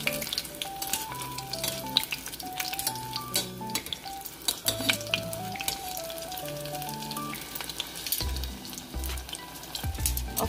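Food fries and sizzles in a deep pot, a steady close crackle running throughout with background music playing.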